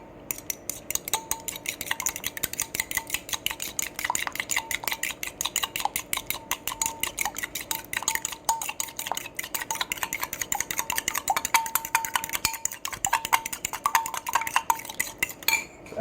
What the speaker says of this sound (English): So I've got my eggs here. I'll go ahead and get those mixed up.